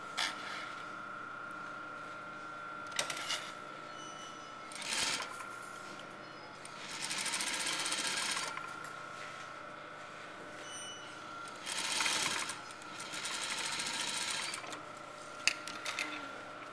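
Sewing machine stitching a half-inch shoulder seam on a blouse, running in several short bursts of a few seconds each with pauses between, fairly quiet, with a steady background hum.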